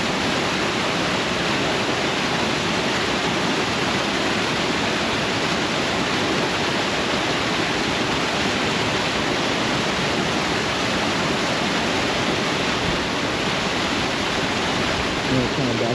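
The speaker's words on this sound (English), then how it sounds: "this is a pretty cool waterfall right here" Waterfall in the Bighorn Mountains, Paradise Falls, rushing in a steady, dense roar that fills the whole stretch without a break, loud and close.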